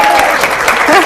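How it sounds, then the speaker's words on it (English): Brief, loud burst of audience applause at a speaking event, dense clapping close by with voices mixed in. "Give her a round of applause."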